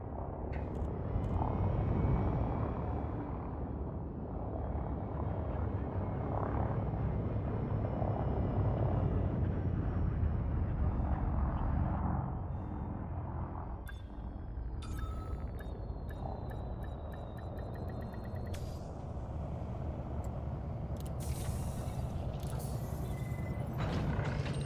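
Spaceship docking and landing in the Elite Dangerous video game: a steady, loud engine-like roar with mechanical whines, gear clunks and bright synthetic chimes toward the end, continuous with no talk.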